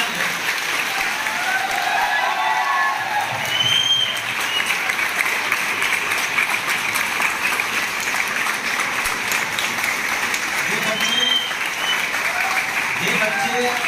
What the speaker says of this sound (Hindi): तालियां ऐसी की गूंज जोरदार है